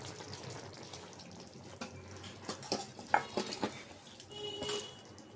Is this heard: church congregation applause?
no